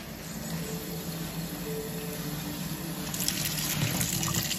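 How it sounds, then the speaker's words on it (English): Water pours steadily into a cup during a blindfolded filling game, a continuous close trickle that grows slightly brighter and fuller toward the end, with no talking over it. "Going to refill water."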